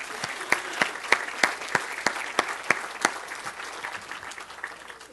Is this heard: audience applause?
yes